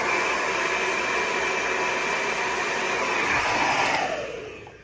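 A hair dryer runs on its high speed, high heat setting during a volume hair styling session, roaring as a steady, loud, close whoosh before easing off near the end.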